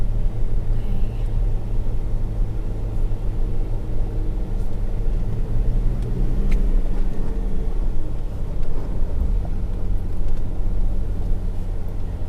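A vehicle driving down an off-road track: a steady, loud engine and road rumble from inside the cab, continuous throughout with faint rattles and no talking.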